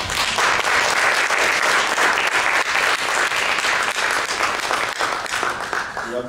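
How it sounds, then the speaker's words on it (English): A large audience gives loud, sustained applause, a dense wall of clapping close by that holds steady for several seconds, with a few faint voices mixed in. "a round of applause, please"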